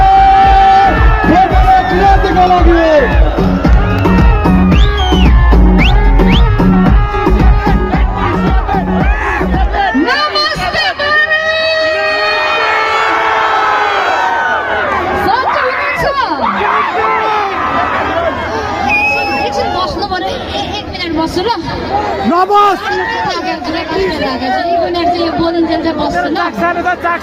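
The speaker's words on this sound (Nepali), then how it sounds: "चेमायासँग एकपल्ट जोरदार तालीको साथ स्वागत" A large crowd gathered to welcome a guest at a gathering in Sindhuli shouts and cheers in loud, continuous unison, with voices chanting and calling out close by throughout.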